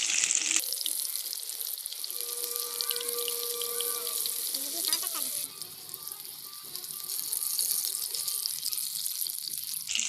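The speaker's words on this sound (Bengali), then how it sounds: "আমরা এপিট ওপিট উল্টে ভালো করে ভেজে নিচ্ছি" Continuous, loud sizzling hiss of chili fritters turned and frying in hot oil, with a faint crackle and a few soft tonal hums in the background.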